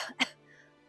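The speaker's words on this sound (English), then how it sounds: "So try to cough now" A single person coughs twice during a mat Pilates class, two short sharp bursts separated by a brief quiet gap, close and clear with no talking.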